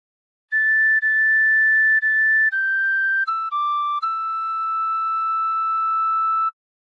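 A tin whistle plays a short phrase of House of the Rising Sun. Pure, clear notes sound alone, a long held tone followed by a few stepped lower notes and a final sustained note, with no talking.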